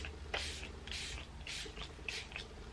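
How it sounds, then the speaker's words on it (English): Benefit Pore Professional Super Setter setting spray, a travel-size bottle, lets out about five short, soft misting hisses in a quick uneven rhythm, close but faint over a low background hum, with no talking. "the only reason I'm applying the setting spray is that I don't want to makeup to transfer all over my shirt"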